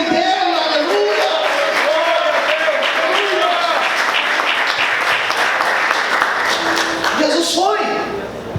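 A church congregation applauding in a dense, sustained wash of clapping that fills the room and continues steadily for several seconds. A voice speaks and sings over the applause at the start and again near the end.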